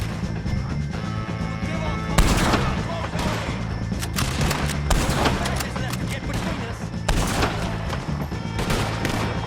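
Heavy gunfire in Red Dead Redemption 2 during a shootout with O'Driscolls, repeated loud shots and booming reports over a dense battle din, with voices shouting between them.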